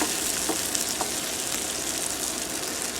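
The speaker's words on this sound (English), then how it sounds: "So my peppers have been going for about 6 minutes, and they are starting to brown" Peppers and onions brown in a pan for smothered pork chops, a dense close sizzle that stays loud and even throughout with a couple of faint clicks.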